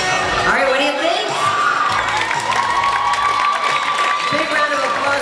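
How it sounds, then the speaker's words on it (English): Crowd at a bodybuilding competition cheers, whoops and applauds loudly for the women's bikini junior masters class, with shouts rising over steady clapping and a voice over the speakers. "Big round of applause for our women's bikini junior masters class."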